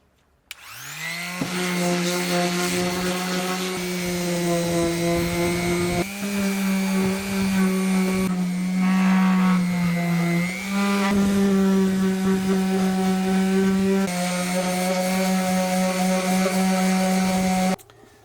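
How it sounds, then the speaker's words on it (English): A power sander whines steadily at close range on a wooden butcher-block countertop in a Sprinter van, its pitch shifting slightly as it works across the surface, running continuously without pause. "So today I'm going to attempt to sand it into a straight line."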